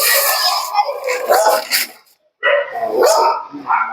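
A dog at a house in Madurai barks and yips loudly and close by in repeated sharp bursts, with a brief pause midway.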